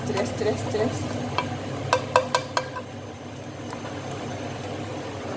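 Spices tipped into hot oil in a large wok sizzle steadily while frying bitter melon stir-fry, with a few sharp clinks of utensil against the pan midway over a constant crackling hiss.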